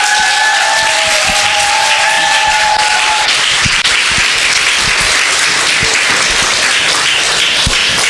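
Loud, dense applause from a church revival meeting congregation, with a brief high tone near the start.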